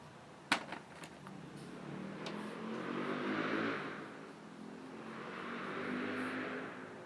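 A car revs and accelerates at a distance, after a sharp knock near the start: two swelling, whooshing engine surges rise and fade, fairly faint against a quiet background.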